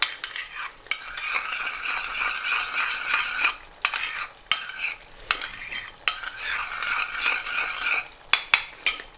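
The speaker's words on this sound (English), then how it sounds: "So I'm just going to give this a little mix" Yogurt and black pepper stirred together in a pan with a utensil, a steady scraping swish running through most of the stretch and broken by sharp clinks against the metal, close and fairly loud with no talk.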